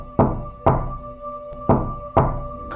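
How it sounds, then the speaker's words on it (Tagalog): Knocking on a house door at night: four firm, evenly spaced knocks, close and loud, each with a short hollow ring. A faint tap falls between the third and fourth, and no voices are heard. "may kumatok sa kanilang pintuan habang tinatawag ang kanyang ama"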